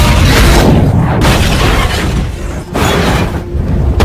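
A car exploding in an action film, a loud, dense roar of blast and debris that fills the whole stretch with brief dips, no speech.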